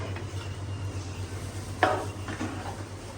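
Green chilies go into a cooking pot, a handi, with a soft sizzle under a low steady hum and a sharp metallic stirring clink near the middle, followed by a couple of fainter scrapes.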